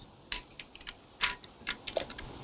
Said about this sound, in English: Typing commands, I see.